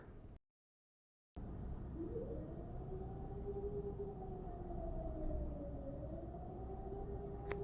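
Distant Swiss civil defense sirens sound during the annual test on a hot sunny day, a faint steady wailing tone that slowly rises and dips over a constant outdoor hiss, with no one talking.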